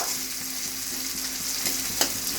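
Onions fry in a pan with a constant bright hiss of oil, close and even, with one sharper crackle near the end and no voices.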